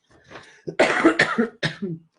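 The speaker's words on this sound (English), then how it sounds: "And I'm still coughing." Several harsh coughs in quick succession, close and fairly loud, with short pauses between them.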